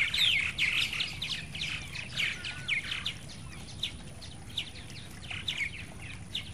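Purple martins chirp and twitter around Troyer gourd birdhouses fitted with modified perches in Texas, a busy run of high chatter at moderate distance over steady outdoor hiss.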